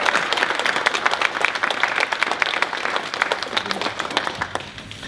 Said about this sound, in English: Big applause to Belko and thank you so much